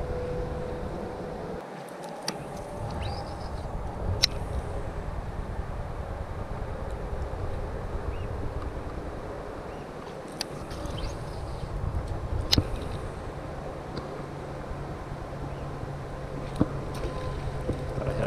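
Wind blows across a muddy pond in St. Louis, a constant broad rushing roar heard close up, with faint scattered knocks and clicks throughout.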